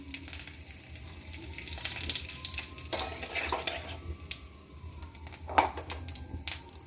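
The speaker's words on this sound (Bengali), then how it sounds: "তেলটা আমার গরম হয়ে গেছে, এখন সাদা জিরা দিয়ে দিচ্ছি ফোড়নে" Whole cumin seeds and bay leaves crackle and sizzle in hot oil for a palak paneer tempering, with steady frying hiss and occasional sharp pops and spatters close by.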